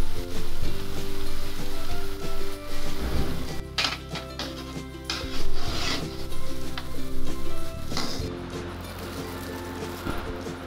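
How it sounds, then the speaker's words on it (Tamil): Urad dal vadai fry in hot oil with a steady, close sizzle, broken by scraping and clacking as the fritters are flipped over in the pan; a voice speaks briefly now and then. "இப்போ இந்த மாதிரி நல்லா 2 சைடும் பெரட்டி போட்டு வேக வச்சிருவோம்."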